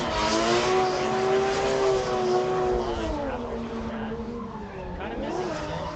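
A white Nissan S14 and a green FRS drift in tandem at a competition at Willow Springs, California, engines wailing with shifting pitch as they rev and slide, loud and continuous, while an announcer talks over them.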